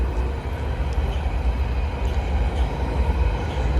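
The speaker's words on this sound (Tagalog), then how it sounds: "At ayun yung train." A long train passes by on a city line in Berlin, a steady loud rumble of rolling wheels and carriages that holds throughout without a break.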